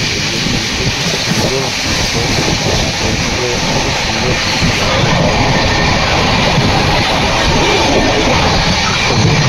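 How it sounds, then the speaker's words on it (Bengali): An express train races along at full speed, heard from on board as a steady, loud rumble and rattle of wheels on track that never lets up. "আমাদের ট্রেন এগিয়ে চলেছে আবার ট্রেন ফুল স্পিড এক্সপ্রেস গাড়িতে আমরা আছি"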